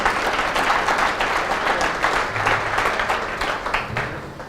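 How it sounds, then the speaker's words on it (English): An audience at a corporate event claps steadily for the whole stretch, a dense, even patter of many hands at full volume that stays strong and fades only slightly toward the end. "Let's give them a big round of applause."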